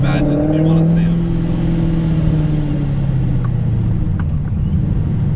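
A Ford Mustang GT350 engine drones loud and close, its pitch sliding down as it shifts without a rev match, settling into a steady rumble with faint voices underneath.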